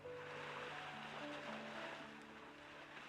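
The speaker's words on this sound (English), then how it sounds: "Why do I hear waves on your end?" Ocean waves heard in the background of a phone call in the video game Love and Deepspace, a very faint, steady wash of surf beneath sustained soft musical tones.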